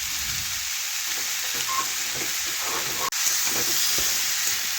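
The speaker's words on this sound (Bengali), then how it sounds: "2 থেকে 3 মিনিট এইভাবে আমি মশলার সাথে পেঁপে একটু ভেজে নেব।" Papaya pieces fry with ginger, cumin and spices in a pan, giving a steady, close sizzle and hiss with faint stirring scrapes throughout.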